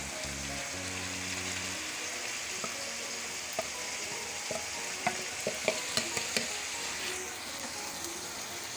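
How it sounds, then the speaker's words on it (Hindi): Minced chicken keema cooks in a pan with a constant fine hiss of frying, then stirring adds scattered clicks and a few sharper taps toward the end, with no speech. "नाज़रीन, हमारा कीमा पकना शुरू हो गया है"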